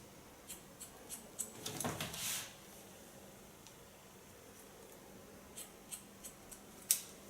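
Scissors snip through hair while a short asymmetric pixie cut is shaped, giving a series of quiet, close, crisp cuts in an uneven rhythm, with a soft rustle in the middle and a sharper final snip.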